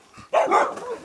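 Puppies bark in quick, loud, close yips, a short burst of high excited barking with brief whimpering.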